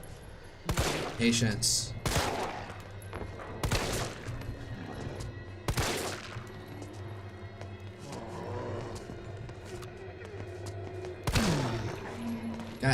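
Gunshots in the video game Resident Evil 2: a handful of loud, widely spaced blasts ring out over thirteen seconds, with a brief spoken word and game noise in between.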